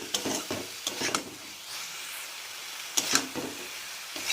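Onion stalks and tomato being stirred and fried in a pan for a sour tamarind and sweet potato dish: scraping strokes come in clusters over a soft, steady sizzle, close and clear.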